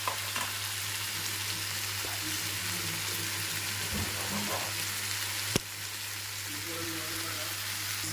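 Eggs fry in a pan among noodle ingredients, a continuous sizzle with a low steady hum beneath and occasional scraping as they are mixed, a sharp knock partway through.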